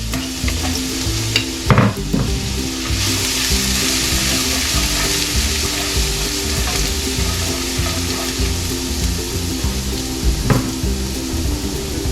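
Ginger slices frying in hot pork fat, a steady close sizzle with repeated stirring scrapes in a pan while lechon paksiw is cooked.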